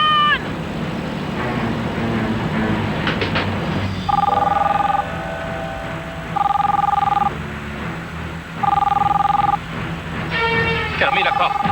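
A telephone rings in repeated bursts, three clear double-tone rings spaced a couple of seconds apart, loud and close in a tense hostage scene aboard a bus in a 1996 American action film, with voices talking between the rings.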